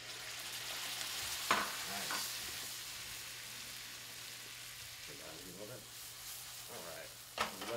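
Arugula, basil and marinara sauté in a pan with a soft, low sizzle. A couple of sharp scrapes from stirring stand out, and a voice talks quietly in the background at times.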